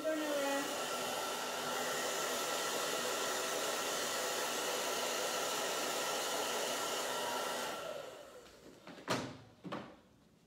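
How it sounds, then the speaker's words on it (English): A blow dryer runs in a steady, loud whoosh for about eight seconds while drying freshly painted letters on shoes. It then switches off, followed by a couple of sharp clicks and knocks. "So I have to use the blow dryer."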